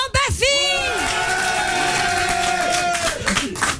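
A studio audience on a French comedy show yells, whoops and cheers loudly and continuously for several seconds, a sustained crowd roar with raised individual voices that fades slightly at the end.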